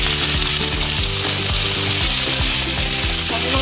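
Boiled taro stolons dropped into hot mustard oil with black cumin seeds, producing a loud, dense crackling sizzle close up, with a rhythmic mechanical rattling whir running underneath throughout.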